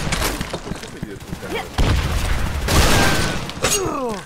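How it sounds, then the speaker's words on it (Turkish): In the online shooter Phantomers, a thrown bomb explodes in a heavy boom amid a burst of rapid gunfire. Clattering shots and cracks come close and loud, with a player talking over them. "Bomba atıyorum."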